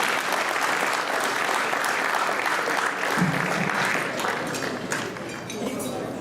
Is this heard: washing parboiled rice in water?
no